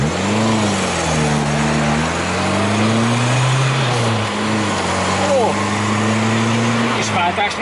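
A Peugeot 205 GTI engine hums under gentle load while driving with cold oil, its low drone rising and falling as the revs shift, heard from inside the car alongside steady road noise and someone talking.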